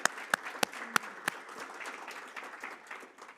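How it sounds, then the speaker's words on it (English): Audience applause at a community health panel event for five speakers, opening with a few sharp individual claps that quickly swell into steady, moderately loud clapping from the room. "Can we just have one more round of applause for all 5 of our speakers?"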